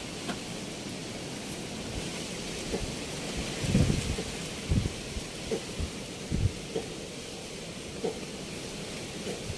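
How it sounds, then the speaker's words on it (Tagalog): Steady rain falls on a hut beside rice fields, a soft continuous hiss with scattered low thumps and rumbles that swell briefly now and then. "Naulan na ulan."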